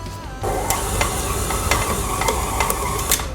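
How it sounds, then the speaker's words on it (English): Chocolate chunk cookie dough being stirred after all the flour goes in at once, a steady close scraping and mixing with repeated soft clacks of the utensil against the bowl, no talking. "And I'm going to add all my flour all in it at once. You really just want to mix until everything comes together."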